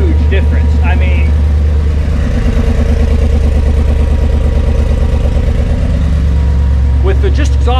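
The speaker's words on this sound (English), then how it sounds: "the car's actually running right now, and you can actually hear me pretty good" A Cobra Daytona build car idles with its new exhaust, a loud, deep, lumpy burble that is close and continuous, with someone talking over the engine throughout.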